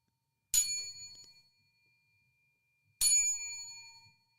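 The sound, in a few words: bell ringing for a 29 bell salute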